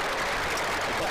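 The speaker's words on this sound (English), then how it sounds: "Michael Burgess gets a very good round of applause as he makes his way off." Cricket crowd at a one-day Warwickshire versus Sussex match applauding a batsman as he walks off the field, a steady broad patter of clapping that fills the whole moment at moderate volume, with faint voices mixed in.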